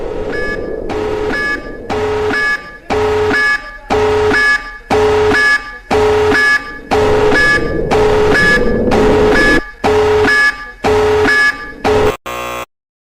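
A store or mall building alarm blares in loud, regular buzzing bursts, about a dozen evenly spaced harsh tones with short gaps between them, cutting off abruptly at the end.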